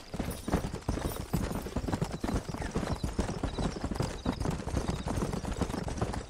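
Horse hooves galloping in the video game Red Dead Redemption make a fast, continuous, loud clip-clop drumming throughout, with a faint whinny and game ambience mixed in.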